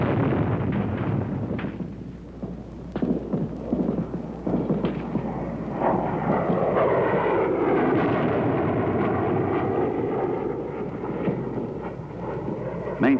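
Military planes flying air support missions in wartime Vietnam, a loud sustained engine roar that swells and holds steady, mixed with rumbling blasts and bursts of combat noise, with no talk.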